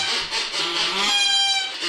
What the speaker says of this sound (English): Hey, can you put those duck calls away?